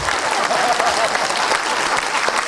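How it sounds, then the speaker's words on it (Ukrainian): Steady audience applause fills the hall at a cultural event, dense continuous clapping at even loudness from start to finish. "поплещіть йому"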